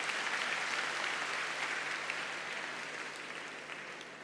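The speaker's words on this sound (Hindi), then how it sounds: "हाँ, जोर से तालियां बजा लीजिए।" Sustained applause from an audience at a Hindi-language talk on celebrating life, a dense wash of many hands clapping that stays loud, then slowly tapers off.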